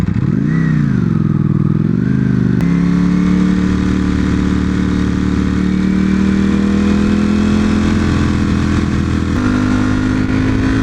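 A V4 motorcycle rides along a road, its engine holding a loud, steady drone with smooth pitch sweeps as it shifts and settles, close and continuous with no talking.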